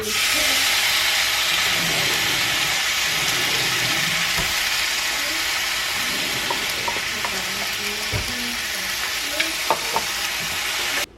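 Mushrooms and a meat mix sauté in a pan for oyster mushroom burgers, giving a steady loud sizzle with hiss and a few clicks and scrapes as the food is stirred.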